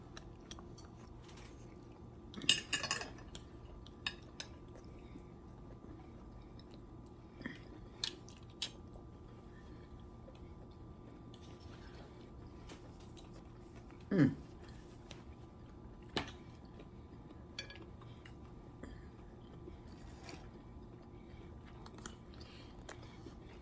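Biting and chewing a cabbage roll stuffed with ground meat, close soft crunches and squishy chews scattered through a quiet stretch, with a few sharper bites standing out.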